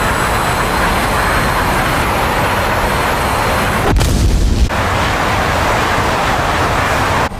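Jet aircraft crashing into the ground in the DCS combat flight simulator: a loud, constant roar of engine and wind broken by a short, heavy boom near the middle, then the steady roar resumes.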